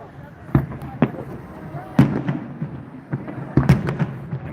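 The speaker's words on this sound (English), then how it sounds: "More fireworks." New Year fireworks show in Coeur d'Alene, Idaho, with a string of distant booming bursts at irregular intervals, some in quick pairs, echoing over a murmuring crowd as people talk nearby.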